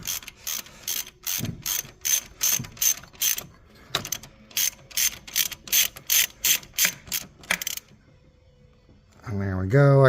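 A ratchet clicks in quick rapid bursts, close and loud, while tightening an alternator bracket bolt on a 2003 Oldsmobile Silhouette, with a short pause before a final louder mechanical rattle.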